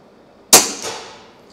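An EPIC TWO LITE air rifle fires a single pellet at a target: one sharp, crisp crack with a quick metallic ring and a short decaying tail, loud and close in an otherwise quiet setting.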